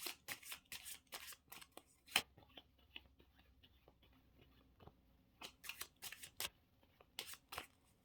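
A deck of cards is shuffled in bursts of crisp riffling, several quick flurries early, a lone sharp snap, a quieter gap of small handling noises, then more rapid riffles near the end, close and fairly soft.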